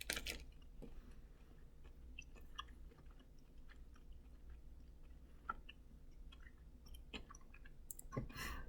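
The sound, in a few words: chewing a Crispy M&M's milk chocolate bar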